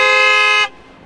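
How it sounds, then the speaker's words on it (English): A rental car's horn gives one loud, steady toot held for a little over half a second, then cuts off abruptly, close and alone. "Michelle! Honk the horn!"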